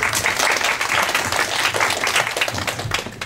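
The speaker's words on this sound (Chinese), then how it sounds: "请大家鼓掌欢迎" An audience at a sports science lecture at a university claps to welcome a speaker, giving dense, sustained applause from many hands throughout.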